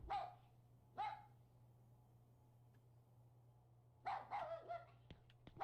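A puppy barks in the horror video game Rule of Rose: two single yaps spaced apart, then after a quiet stretch a quick cluster of excited barks, moderately distant over a low steady hum.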